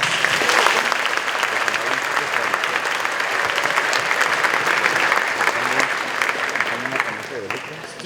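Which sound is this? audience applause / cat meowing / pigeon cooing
audience applause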